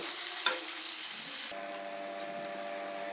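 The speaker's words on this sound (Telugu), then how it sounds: "ఇలా ఫ్రై చేసుకోవాలన్నమాట నీరంతా పోయే వరకు ఫ్రై చేసుకోవాలి" Raw prawns fry in hot oil for a prawn biryani, giving a steady, bright sizzling hiss that drops slightly in level midway and then continues evenly until the end.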